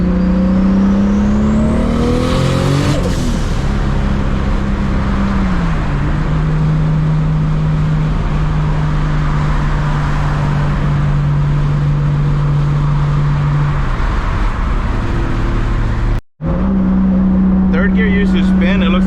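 Toyota Supra MKIV with an 800+ hp engine accelerating hard on a public road, a loud droning engine note that climbs through the gears. After a brief cut the engine settles into a steady cruise, with a voice talking over it.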